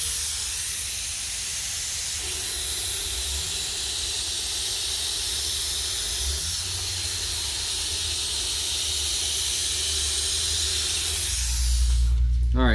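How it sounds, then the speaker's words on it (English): A continuous hiss of hydro dip activator spraying from an aerosol-type nozzle runs for several seconds, ending with a louder clatter and rumble. "we'll spray the activator first"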